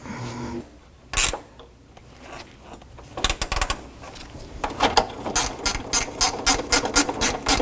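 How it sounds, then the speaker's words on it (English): A ratchet tightens radiator bolts on a Jeep Cherokee, with quick clicking bursts of pawl ratcheting close up, separated by short pauses and small handling noises. "Put your 2 bolts in. Snug those up."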